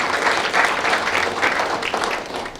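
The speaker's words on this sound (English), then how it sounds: "Give yourselves a round of applause." An audience at a mayoral election forum claps in a steady round of applause that stays moderately loud throughout.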